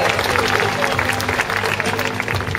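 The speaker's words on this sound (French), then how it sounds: "Une acclamation méritée pour nos danseurs étoiles de mer et leurs maîtres de ballet." An audience at a dolphin show at Parc Astérix clapping and cheering, a dense continuous wash of applause from a large outdoor crowd, with voices mixed in.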